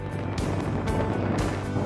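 A rear-drive, single-motor Luxeed S7 electric car with 292 horsepower accelerates hard, with a steady rush of road and wind noise and a faint high motor whine.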